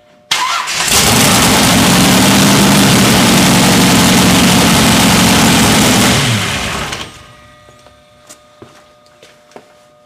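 A vehicle engine cranks and catches abruptly, then runs loud and steady near the microphone for about six seconds before dropping off, followed by a few faint clicks and taps.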